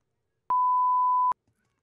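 A single steady censor bleep tone from Adobe Audition, sounding alone for just under a second, loud and clean with abrupt start and stop, followed by silence.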